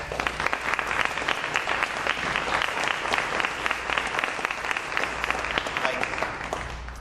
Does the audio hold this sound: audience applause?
yes